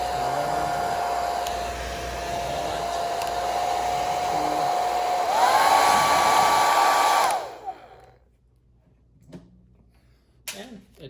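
A repaired Revlon hair dryer runs with a steady high whine and airflow hiss, rising in pitch as it speeds up, then cuts off abruptly, leaving a few faint handling clicks.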